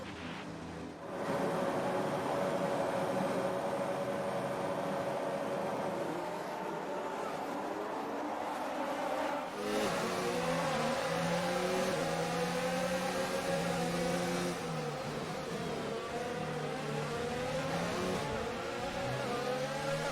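F1 2019 race cars launch from the grid with a sudden roar of high-revving engines, pitch climbing through gear changes and overlapping whines of nearby cars, loud and continuous.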